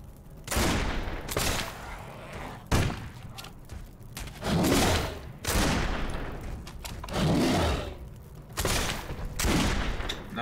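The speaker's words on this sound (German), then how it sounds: "Nein, nicht zweimal schießen." Gunfire in the video game Risen 2 erupts as a series of heavy, booming shots and thuds in irregular bursts, loud and close, with no speech over them.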